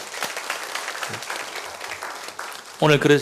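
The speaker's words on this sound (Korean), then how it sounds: "우리 박수 한번 하겠습니다." A church congregation at a Sunday afternoon worship service applauds in a faint, steady wash of clapping, followed by a voice speaking close and loud at the end.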